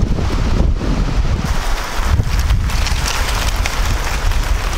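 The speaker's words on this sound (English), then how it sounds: "it is extremely windy today" Extremely strong wind blasts across a roof framing job site with trusses installed, a loud, low, rumbling microphone buffeting that surges in gusts and never lets up.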